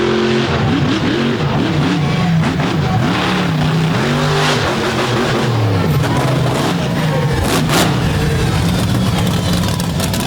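A big Chevrolet monster truck from Minnesota, Mechanical Mischief, roars loudly at full throttle at an arena event, its engine revving up and down in surging waves for the whole stretch with no pause.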